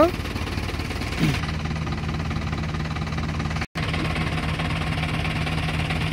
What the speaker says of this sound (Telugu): ఇది చేస్తూ ఉన్నారు కదా, ఇది మొత్తం ఇంజన్ అన్నమాట.